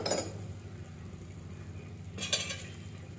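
Beetroot stir-fry with turmeric and salt is stirred in a pan: quiet scraping and soft sizzle, broken by a few sharp clinks of the spoon against the pan at the start, middle and end.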